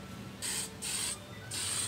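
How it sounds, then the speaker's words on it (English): An aerosol spray can coats a handmade Christmas gift in three separate hissing bursts, each roughly a third of a second long, sprayed from close range with quiet pauses between them. "You want to spray about 6 inches to a foot away."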